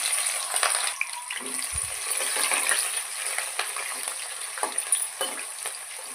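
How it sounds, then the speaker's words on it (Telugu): Mustard seeds and cumin sizzle in hot oil with a bright, crackling fizz, close and steady, dotted with small pops and a brief clunk of the pan, and no talking. "ఆయిల్ వేడెక్కింది కదా కొద్దిగా ఆవాలు జీలకర్ర వేసుకుందాం"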